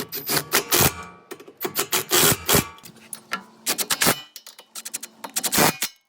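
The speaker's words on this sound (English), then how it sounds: "we'll go ahead and tighten our back brackets up" Bolts being tightened on the rear brackets of a side-by-side muffler on a KRX 1000, heard as a close series of sharp metallic ratchet clicks and clanks in quick bursts with short pauses between them, no talking.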